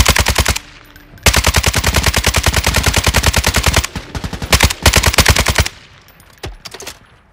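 Sustained automatic gunfire from Call of Duty: Modern Warfare II, loud rapid bursts of evenly spaced shots with brief pauses between strings and no talk over the firing.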